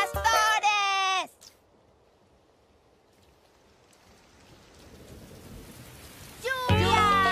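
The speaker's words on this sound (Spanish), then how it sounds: "Ah, no hay nada como la lluvia." Steady soft rain hiss in a children's cartoon fills the middle stretch, quiet and even, bracketed by loud voices at the start and end.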